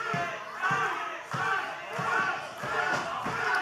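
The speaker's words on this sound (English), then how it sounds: "The crowd trying to rally Super Z back into this thing now." A live wrestling crowd cheers and chants in loud, rhythmic waves to rally the wrestler Super Z, with repeated thumping beats under the swelling roar.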